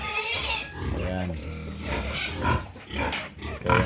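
A large sow grunts on a farm, low rough grunts running steadily at close range while a voice talks over them.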